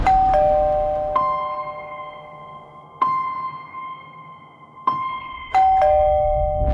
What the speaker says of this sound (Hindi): घर की घंटी बजाई थी